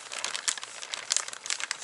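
A foil reaction-heater packet for a camping meal is folded into an envelope and stuck down, giving close, continuous crinkling and rustling with sharper crackles scattered throughout.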